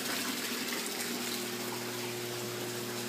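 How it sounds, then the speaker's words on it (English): Water gushes and drains steadily as an aquaponics bell siphon kicks on, a close, continuous rushing flow with a low pump hum underneath. "there's the bell siphon. It just kicked on"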